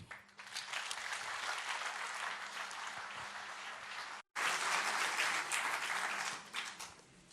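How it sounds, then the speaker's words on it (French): Audience at a competition in Palaiseau applauding, a dense sustained clapping that cuts out briefly midway and resumes just as full before tapering off. "J'aimerais que vous lui fassiez aussi un tonnerre d'applaudissements"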